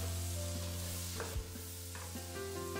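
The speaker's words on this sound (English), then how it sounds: "Now I'll add some roughly chopped red onions." Roughly chopped red onions frying with lamb in a pot for a Guyanese lamb and Guinness stew, a steady close sizzle with a few scraping stirs of the spoon, no talking.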